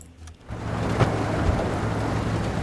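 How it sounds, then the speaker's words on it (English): Rain falls over the sea in the UBoat submarine game under overcast skies, a steady broad wash of rainfall and low rumble that swells in after a short quieter start and stays constant. "Raining and overcast."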